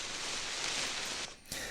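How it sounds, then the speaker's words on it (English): Grass and dried leaves tossed in front of a microphone, used as a grass surface sound for a video game. It is a close, dense, breathy rustle with a brief dip near the end, heard alone. "So that's the sound of grass and dried leaves essentially being tossed in front of a microphone"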